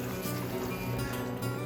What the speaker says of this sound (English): So fill in with water, again because you don't want the rocks drying out just yet.